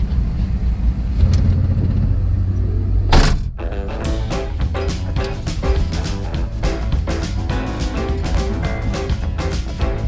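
A drag racing car idles roughly at the strip before a loud burst of engine noise, then a hard, pulsing roar as it makes a test and tune pass.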